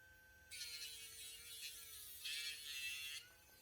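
An electric dog nail grinder hums steadily for about three seconds as it files down a dog's nail, close and fairly quiet, with a slight rise in intensity toward the end.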